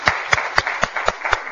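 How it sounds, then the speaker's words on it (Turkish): Audience at a Turkish folk music performance clapping in a quick, even rhythm, sharp close hand claps about four per second, faint voices beneath. "hemen o güzel alkışlarınız"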